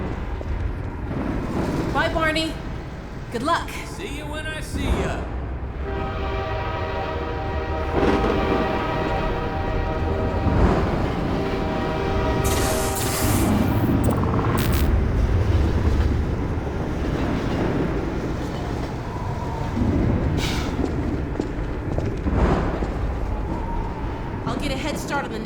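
A train arriving in the video game Half-Life 2: Episode One, a steady rumbling rolling noise with rhythmic clatter and metallic whines, running continuously under spoken dialogue and game ambience.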